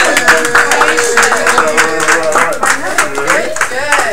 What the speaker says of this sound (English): how about another round of applause for all the